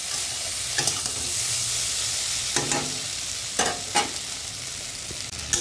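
Fish curry masala for a rohu jhol sautéing in a pan, a constant loud sizzle broken by a few sharp scrapes and clinks of the spatula, close up and without voices.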